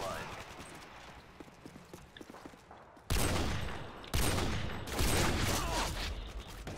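Gunfire in Call of Duty: Modern Warfare 2 multiplayer, with scattered light clicks and shots, then loud sustained bursts of automatic fire in the second half, close and harsh.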